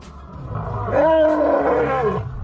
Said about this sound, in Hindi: एक असली शेर की आवाज रियल लाइफ में कुछ ऐसी होती है